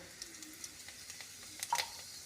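Cumin seeds hit hot oil in a kadai and give off a soft, steady sizzle, with a brief, brighter crackle of spattering near the end.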